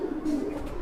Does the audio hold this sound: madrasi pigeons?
yes